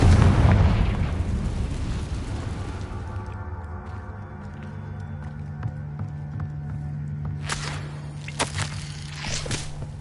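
The Confringo spell in Hogwarts Legacy on PS5 sets off a loud, close booming blast that rumbles away over several seconds. Lighter clattering impacts and pops follow near the end.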